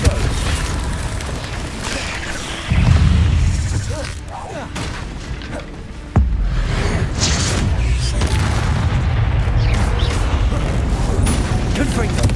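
Repeated Confringo blasting-spell explosions in the Hogwarts Legacy video game, with a Percival Rackham trial on hard mode: heavy booming impacts that come in bursts over a dense, continuous backdrop of game combat noise, including a loud jump around the midpoint.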